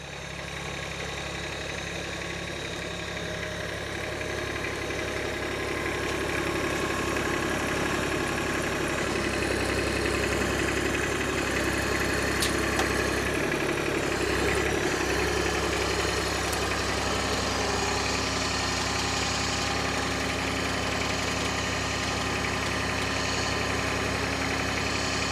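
A UHI UME 12 Chinese mini excavator's engine idles steadily and loudly close by, a constant low diesel drone with a slight knock, with no talk.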